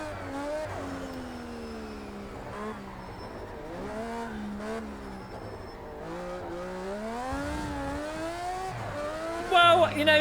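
Mad Mike Mazda MX-5 drift car in the racing game Project Cars 2, its engine rising and falling in pitch through repeated throttle blips and revs, with tire squeal near the end, loud and continuous under occasional talk.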